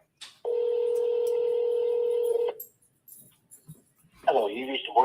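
A phone call being placed: a quick burst of keypad tones, then a long steady ringback tone lasting about two seconds, followed by a recorded voice answering.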